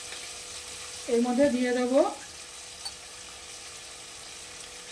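Spices sautéing in a pan for a Bengali unripe jackfruit (echorer kalia) curry give a faint, steady sizzle beneath a short stretch of nearby talking.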